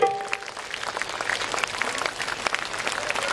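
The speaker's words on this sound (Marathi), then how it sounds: "10 सेकंद जोरदार टाळ्या वाजवा सगळ्या" A live stage-show audience in Rahata, Shirdi claps loudly and continuously, the dense applause holding steady throughout.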